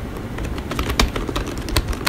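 Text is typed on a computer keyboard while working in Adobe Illustrator. Close, rapid, irregular key clicks run in a steady stream, with a few sharper strikes, and no one speaks.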